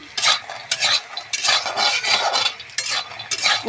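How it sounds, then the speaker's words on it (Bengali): Dried lentil dumplings fry in a pan while a metal spatula scrapes and stirs in repeated short bursts over a faint sizzle, with no voices. "এখানে এবার ডালের বড়িগুলো ভেজে নিচ্ছি।"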